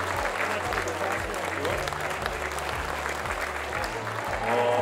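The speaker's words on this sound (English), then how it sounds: "Let's give Andrew a big round of applause" Steady audience applause at an art awards night, dense and continuous clapping from a sizeable crowd with a few faint voices and cheers mixed in, holding at an even level throughout.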